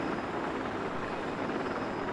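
A helicopter flies in the Battlefield 4 video game with a steady, droning rotor and engine roar that holds at an even, moderately loud level for the whole stretch, with no talk.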